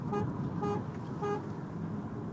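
Car horn of a DS 4 Cross sounding in several short toots over a steady interior engine and road hum while driving in sport mode, fairly close and moderately loud.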